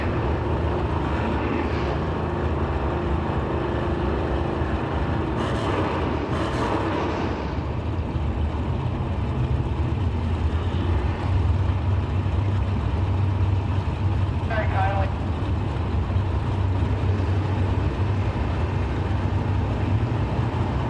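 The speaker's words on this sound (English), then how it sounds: "Jesse Long, 70 Mustang Coupe, out 679 against the AMC Spirit of Matt Obertanic." Drag racing cars, a 1970 Mustang Coupe against an AMC Spirit, roar as a loud, steady engine drone that fills the whole stretch, heard under track noise at a door-car race event.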